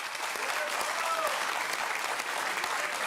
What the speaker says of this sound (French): On peut applaudir le bandeau.